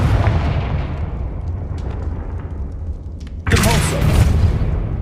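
A Confringo blasting spell goes off in the video game Hogwarts Legacy, a sudden loud boom that bursts in partway through and rumbles on over a dense, noisy game backdrop.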